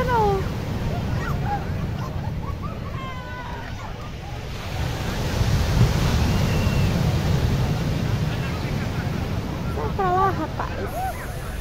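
Ocean waves break on Nazaré beach in Portugal with a continuous rushing surf and gusts of wind noise, and voices and excited calls from people on the sand carry over it.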